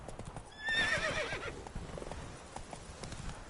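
Roach the horse in The Witcher 3 whinnies loudly near the start, a bright neigh over steady clip-clop hooves that continue at a trot for several seconds.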